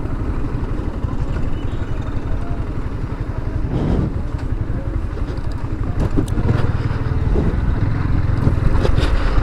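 Steady low rumble of a ferry engine on the Padma river, with wind buffeting the microphone and a motorcycle aboard, continuous and fairly loud throughout.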